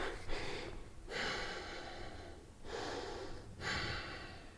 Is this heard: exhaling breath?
yes